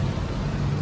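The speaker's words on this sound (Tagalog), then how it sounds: "Yan talaga yung tunog ng makina niya." The engine of a Toyota 7-seater or Honda 5-seater used car idles steadily, a dense, even, close rumble with no changes in pitch or speed over the short stretch.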